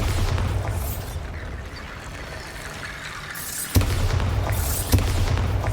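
A Bombarda spell explosion in Hogwarts Legacy produces deep booming blasts with crackling bursts, loud and close, with a quieter rumbling lull between the impacts.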